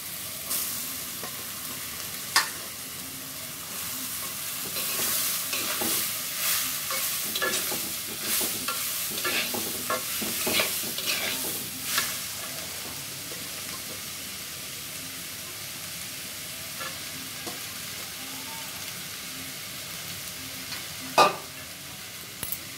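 Chopped cucumber fries in a pan with turmeric and panch phoron, with a steady sizzle and repeated spatula stirring strokes that thin out toward a quieter hiss, plus a couple of sharp knocks.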